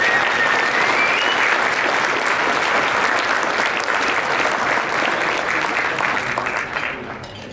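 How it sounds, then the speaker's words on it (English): Sustained applause from an audience at a Rotary youth benefit night, honoring the organizing team; steady, dense clapping that carries on throughout and tapers off slightly at the end. "So can we please give them a big round of applause?"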